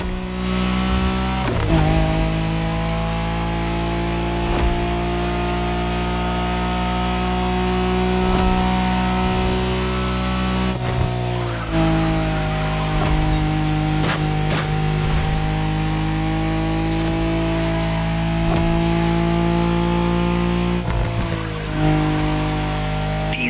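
Nissan Skyline engine in The Crew Motorfest video game revving hard and loud, with a strong droning tone that repeatedly climbs and drops through gear changes, heard alone without talk.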